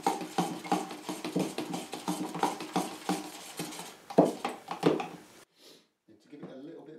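Second colour of paint being mixed for the sunburst finish on an ES-335-style guitar build: quick, rhythmic stirring clinks against a container, steady for several seconds before stopping, leaving only faint rustling.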